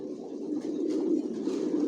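Racing pigeons, a resting master breeding pair, coo steadily in a low, throaty murmur that runs continuously and fairly close, with no voices present.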